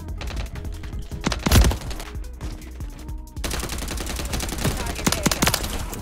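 Modern Warfare 3 video game combat: rapid bursts of gunfire crackle throughout, with a heavy boom from a grenade explosion standing out near the start, all loud and dense.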